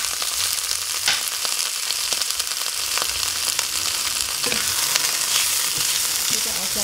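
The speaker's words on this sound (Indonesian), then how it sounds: "Kita oseng sebentar." Carrots and green beans stir-fried in a pan with aromatics, a loud, dense, close sizzle running the whole time, with scattered scraping and clinking stirs of the spatula.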